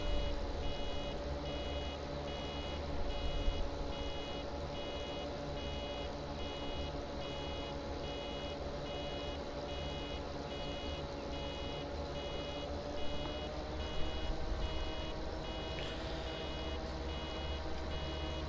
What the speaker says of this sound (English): I actually really don't like this sound when the barrel is almost full.